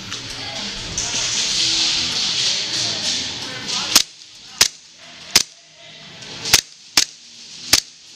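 Airsoft pistol firing during a pistol-only game: after a stretch of broadband noise and chatter, six sharp, separated shots crack out at uneven intervals, loud and close.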